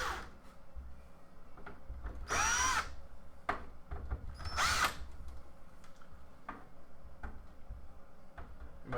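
A power drill backs screws out of Addams Family pinball machine boards during a teardown, with two short whirring bursts amid faint clicks and handling noises.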